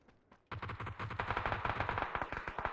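Rapid automatic gunfire in a firefight in a shooter video game, a quiet lead-in and then a loud sustained burst of close, evenly spaced shots.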